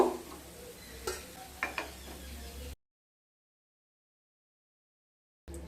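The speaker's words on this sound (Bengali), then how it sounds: "ঠিক একইভাবে সমস্ত আপ্পেগুলোকে ভেজে নেব" Rava appe, semolina dumplings, cooking in an appe pan, with a soft continuous sizzle and a few clinks of a utensil for under three seconds, then silence before a brief return of the sizzle at the end.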